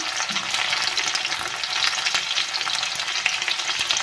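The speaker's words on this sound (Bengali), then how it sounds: "এখন আমি পেঁয়াজ দিচ্ছি দিচ্ছি কাঁচা লঙ্কা" Onion and green chili sizzle and fry steadily in a pan for a Bengali dish, a dense continuous crackle close up with faint occasional stirring, no voices.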